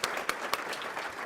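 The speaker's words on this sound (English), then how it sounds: "Round of applause for them, please." Audience applause at a charity anniversary gala, a brief, fairly soft wash of many clapping hands with a few sharper individual claps standing out.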